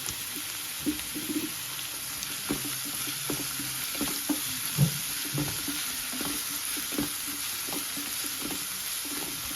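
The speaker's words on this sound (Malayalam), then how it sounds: "പെട്ടെന്ന് വഴണ്ടി കുറച്ച് ഉപ്പിട്ടിട്ട് വഴറ്റാം" Ingredients sauté with a little salt in a pan, a soft continuous sizzle broken by repeated rhythmic stirring scrapes and taps from a spoon, close by with no talking.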